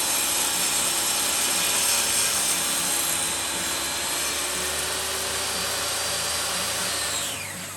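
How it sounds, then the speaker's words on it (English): A table saw cuts through an epoxy lamp, giving a loud, sustained whirring and cutting roar that stays steady, then tapers off as the blade spins down at the end. "Finally, some table saw action."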